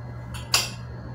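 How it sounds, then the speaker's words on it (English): Cutlery clinks briefly in a home kitchen while someone searches for a small knife, two quick metallic rattles, the second sharper, against a quiet hum. "I'm in the kitchen right now, searching for knife."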